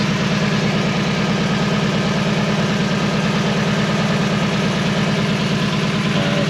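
A Mazda Miata engine idles loudly and steadily from close by, with an even, continuous low rumble and no speech over it.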